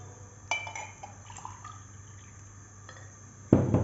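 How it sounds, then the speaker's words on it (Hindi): Water splashes and trickles into a pot of masoor lentils, with a few light pours and drips followed by a louder gush at the end, close up in a quiet kitchen. "अब इसका मैं 3 गुना पानी डालूंगी।"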